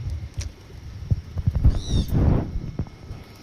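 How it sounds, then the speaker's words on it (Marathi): A flock of pigeons gathered outdoors near ducks coos softly with low, irregular hoots close by. "आज कबूतर भरपूर आली आहेत इथे."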